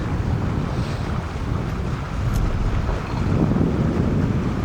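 Light sea breeze buffets the microphone aboard a trawler cruising toward Bahia Concepcion on a flat sea, a steady low rumble of wind with faint water wash beneath, continuous and fairly loud with no voices.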